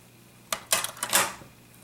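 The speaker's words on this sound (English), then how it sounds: "open the bolt and remove any remaining ammunition" A rifle bolt, likely on a Winchester Model 70, is worked open and ammunition removed: a quick series of sharp metallic clicks and clacks after a quiet start, with no speech.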